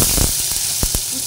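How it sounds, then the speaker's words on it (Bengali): Bay leaf and cumin seeds fry in hot oil for a vegetarian curry, a loud close sizzle with quick crackles and pops throughout the short moment. "তেজপাতা আর সাদা জিরে দুটো দিয়ে দিলাম। দুটোই ভাজা হচ্ছে"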